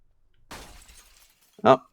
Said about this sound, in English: that was a very realistic glass shattering sound effect that we heard when the zombie broke through it